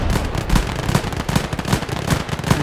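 Rapid, continuous gunfire from a squad suppressing an enemy position in the Gates of Hell war game, a dense crackle of rifle and machine-gun shots with bullets pinging, loud and sustained throughout with no talk.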